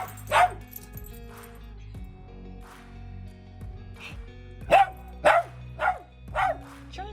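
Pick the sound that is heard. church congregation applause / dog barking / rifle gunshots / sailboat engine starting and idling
dog barking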